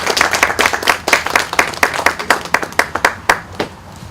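An audience at a press release claps, the individual handclaps sharp and distinct in a quick, uneven rhythm before tapering off near the end.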